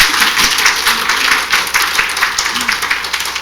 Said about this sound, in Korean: 박수 쳐도 괜찮아요